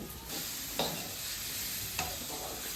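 Chopped onions sizzling in hot oil in a pan for a home-made mutton curry, a steady close frying hiss with a couple of sharp scraping stirs of a spoon, and no talking.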